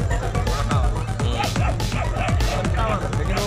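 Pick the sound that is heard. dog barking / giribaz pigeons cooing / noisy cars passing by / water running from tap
dog barking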